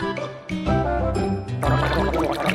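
Cartoon water-rinsing effect from a Robocar Poli tooth-brushing lesson: a splashy, gargling pour over a busy musical backing, close and loud throughout, growing denser and more bubbly in the last second, with no talking.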